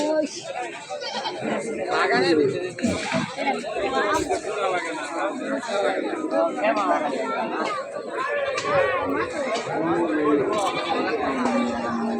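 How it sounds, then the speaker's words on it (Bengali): Goats bleat over and over amid a dense crowd at a busy goat market, their cries mixed with constant chatter and voices of people talking close by. "এই ছাগলের হাট।"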